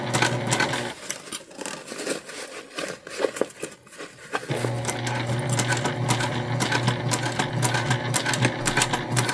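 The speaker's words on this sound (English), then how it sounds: "we're just stitching about 1/8 of an inch away from the edge here to close up that hole" Sewing machine stitching silver thread about an eighth of an inch from a fabric edge, a steady fast mechanical whir with clicking, pausing briefly then running continuously and fairly loud.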